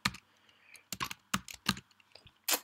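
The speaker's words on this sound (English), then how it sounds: "So let me just type in a date." Typing on a computer keyboard while entering a date into an expense app, with a few separate bursts of clicky keystrokes across a short quiet stretch.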